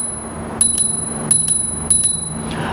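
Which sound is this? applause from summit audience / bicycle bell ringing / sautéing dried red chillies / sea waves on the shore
bicycle bell ringing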